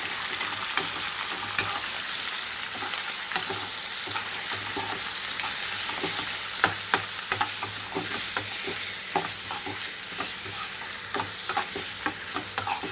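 Chicken pieces frying with onions in a pan, a steady soft sizzle with scattered clicks of stirring throughout, close and continuous.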